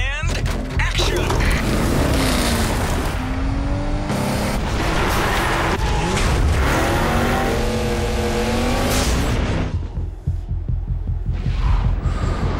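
A missile carrier vehicle drives in the Stuntman: Ignition video game, its loud engine droning continuously with rising revs and rumble, filling the whole stretch before briefly dipping near the end.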